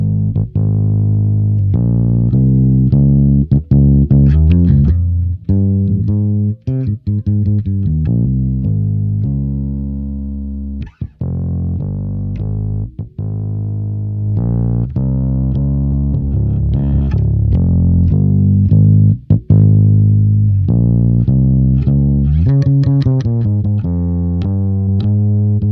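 Distorted electric guitar run through a Kiive Audio Tube KC1 tube compressor while its threshold is adjusted, a steady stream of chugging notes and chords, loud and close, with brief gaps and the tone shifting slightly over time.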